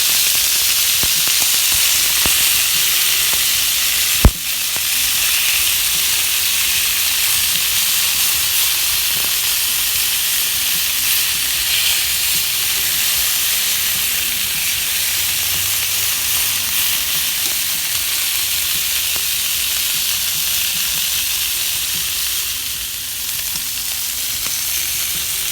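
Strip steak sizzles steadily on an outdoor griddle, a loud continuous hiss and crackle with one sharp click partway through, no voices.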